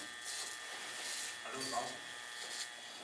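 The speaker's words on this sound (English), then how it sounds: "it's a good clipper to start with because it got the notches" Electric hair clippers buzz in short passes while cutting a drop fade on a client at a career-center barbering class, a thin whirring that rises and falls, with soft talk in between.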